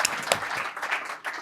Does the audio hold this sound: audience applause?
yes